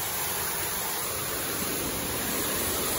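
Water at Pag-ibig Falls pours in a steady, broadband rushing roar, close and continuous with no other sounds standing out.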